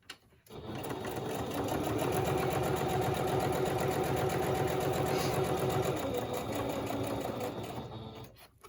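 A sewing machine stitches a fabric tag in one steady, continuous run of rapid mechanical clatter, loud and close, starting and stopping cleanly with no talking.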